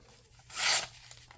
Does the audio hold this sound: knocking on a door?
no